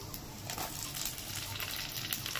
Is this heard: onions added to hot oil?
yes